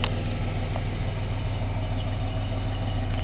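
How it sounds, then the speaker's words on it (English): A 1946 Dodge WD-15 rat rod shop truck idles with a Megaflow exhaust, a steady, smooth, low engine rumble held evenly from start to finish, fairly quiet and close. "It's got a mega flow exhaust, which just sounds real good and smooth."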